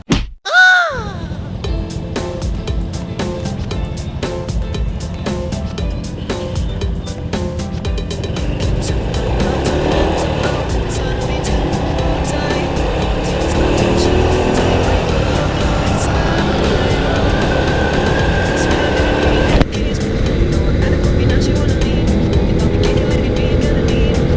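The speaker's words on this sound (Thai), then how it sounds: "หน้า มหาลัยคนเยอะมากเลย รถเยอะด้วย" Heavy night-time road traffic in front of a university in Phayao, Thailand, a continuous loud roar of passing cars and motorbikes with intermittent knocks and clatter, fairly close and steady throughout.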